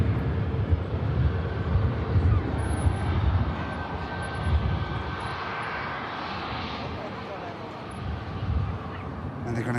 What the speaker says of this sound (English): See the Vueling flight rotate.